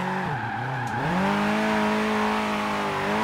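A 1970s Chevrolet Vega in the racing game Forza Horizon 3 drifts on the handbrake, its engine note dipping and surging before settling into a steady, loud drone with tire squeal.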